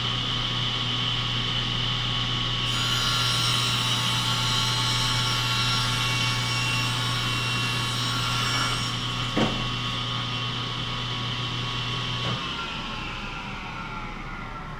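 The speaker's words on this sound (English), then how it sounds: "Here's what a crosscut looks like." A table saw crosscutting wood, the motor holding a steady high whine with strong tonal harmonics, a brief bite of the blade through the board near the end, then the pitch winding down as the saw coasts.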